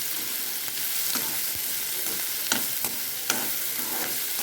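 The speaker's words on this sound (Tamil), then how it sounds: "இதுக்கப்புறம் நல்லா கிண்டி விடுறோம்." Bitter gourd (karela) frying in an iron pan over medium heat while it is stirred, with a continuous soft sizzle and repeated spatula scrapes and taps against the metal.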